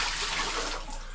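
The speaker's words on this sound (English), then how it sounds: "I'm going to leave both these filters and let them drain the water out of them as much as I can before I haul them off." Water steadily drains and trickles out of well water filters, a continuous close hiss of running liquid lasting about a second with no talk.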